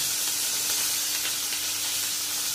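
Thin-sliced onion frying until crisp-browned in a pan for curd-style okra curry, a steady close, dense sizzle and hiss running evenly throughout with no talk.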